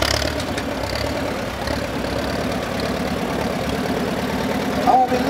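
A 1959 German-built Porsche Junior tractor's single-cylinder diesel engine idles with a steady low chugging throb, close and continuous, while a voice talks over it at an outdoor tractor parade.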